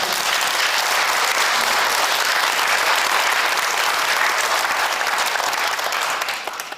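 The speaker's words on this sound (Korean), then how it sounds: "우리와 같은 감사의 박수를 드립니다" Sustained applause from a church seminar audience thanking the guest lecturer, dense steady clapping filling nearly seven seconds before tapering slightly at the end.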